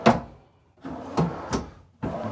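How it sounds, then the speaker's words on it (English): Full extension drawer glides in the bathroom vanity of a 2023 Newmar London Aire 4551 motorhome, with several short close sliding and thudding strokes as drawers open and shut, separated by brief pauses. "Full extension drawer glides."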